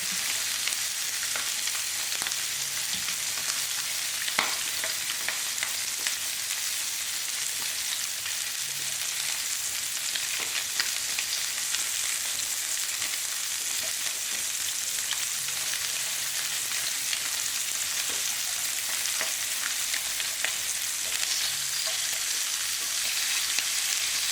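Chicken drumsticks and breast pieces, bone left on, sear in a hot pan with a constant close sizzle and scattered small pops and crackles, with no talking.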